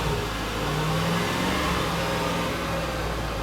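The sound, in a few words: SUV engine revving as throttle is pressed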